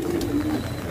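Pigeons of fancy breeds kept by a fancier in Tonk, India, give a short, soft, low coo, close and clear over faint background noise.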